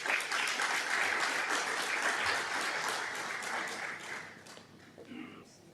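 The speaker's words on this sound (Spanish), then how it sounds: "a que le damos también un aplauso de bienvenida." Welcoming applause for a seminar moderator at a cyber-law event, a dense burst of clapping from an audience that holds for several seconds and then thins out and fades.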